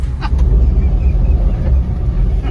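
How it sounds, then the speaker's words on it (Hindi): A Mahindra Thar off-road vehicle speeds along with a loud, steady low engine and road rumble throughout, close by, with no voices. "थार अचानक से एकदम पकड़ लेता क्या स्पीड"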